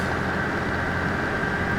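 A locomotive running light with nothing coupled behind, accelerating in the Derail Valley video game: a steady mechanical drone with a sustained whine, loud and even throughout the short stretch, no voices.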